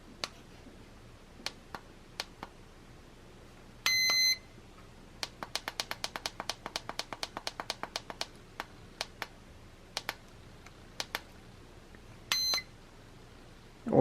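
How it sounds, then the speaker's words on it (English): An AcuRite 00986 digital wireless thermometer sounds its minimum temperature alarm: short high-pitched beeps, a few in a pair, then a rapid string of clicks and button ticks, then another brief beep burst, close and isolated. "then that's our minimum temperature alarm"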